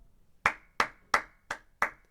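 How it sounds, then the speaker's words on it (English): Five crisp hand claps ring out in an even, unhurried rhythm, each sharp and close with a quick decay. Clean silence fills the gaps and no voices are heard. "Everyone clap."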